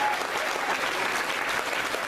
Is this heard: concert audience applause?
yes